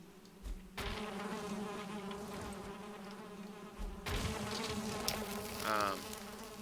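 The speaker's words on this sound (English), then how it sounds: "I hear bees." Bees buzz in a steady, droning hum in the video game Valheim, swelling in two louder bursts, close and continuous, with no talking.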